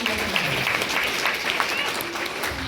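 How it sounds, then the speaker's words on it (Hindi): Steady applause from a crowd at a devotional Holi gathering, a dense continuous patter of hands throughout, with faint voices mixed in. "so big round of applause अपने लिए"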